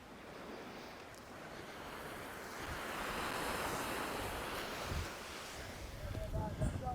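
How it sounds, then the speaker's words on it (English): Sea waves roll onto a beach in Barbados, a steady rushing surf that swells and recedes, heard from nearby with some wind buffeting the microphone. "Come look at the sea."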